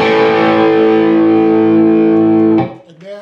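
Distorted electric guitar from a guitar lesson, a held chord ringing out before a quick slide down to an A, loud and close with no voices.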